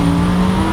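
A twin-turbo Lamborghini Huracan engine roars loud and close in a steady, sustained burst of acceleration, with no talk over it.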